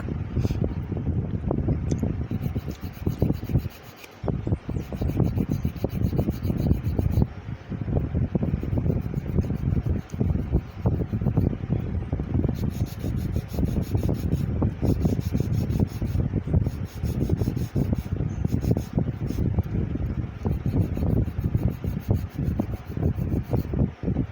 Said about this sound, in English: So I'll start with shaping the outsides of the nails